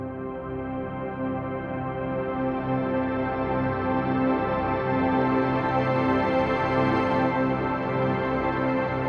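A warm, dense synth pad printed to a Fostex X28 four-track tape recorder drones continuously with gently wavering harmonics and a slightly dulled, muffled top end, with no speech.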